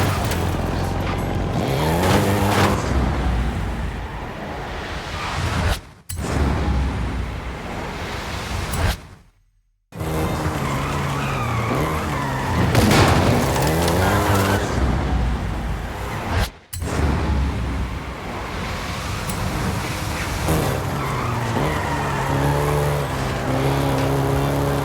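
A Volkswagen Golf GTI drives in Forza Horizon 5, its engine revving and shifting through gears with tire squeal, steady and loud for most of the stretch, broken by a few abrupt cuts to silence.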